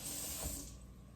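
Tap water running into a large saucepan in a home kitchen, a steady close hiss and splash that eases off within about a second.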